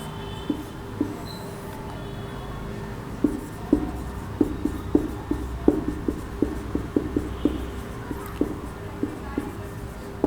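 Notes written by hand during a CBSE class 10 chemistry lecture on acids, bases and salts, a run of quick, rhythmic taps and scratchy strokes clustered close together over a low, steady background hum.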